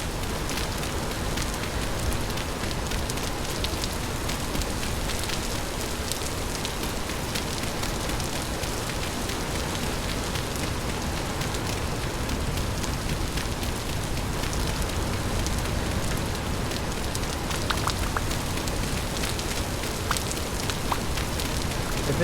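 Steady rain hisses outside a shelter, a dense, even wash of drops and patter that holds constant throughout with no clear breaks; no one speaks.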